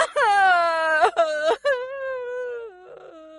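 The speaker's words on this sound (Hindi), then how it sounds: "कि तभी अचानक उसको किसी लड़की के रोने की आवाज आती है।" A girl in a horror cartoon cries in long, drawn-out wails broken by a few sobbing catches, the last one trailing off into a quieter whimper.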